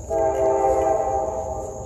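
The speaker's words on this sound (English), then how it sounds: "I try to talk and the train comes." A train horn sounds loud and steady throughout, a sustained held tone over the low rumble of railcars rolling past near a garden, with no talk.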